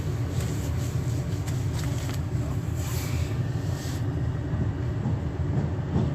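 A train sets off from Ebbsfleet International in Kent, heard from on board as a steady deep rumble and hum of motors and wheels, with a few faint clicks and rattles early on, and no talking.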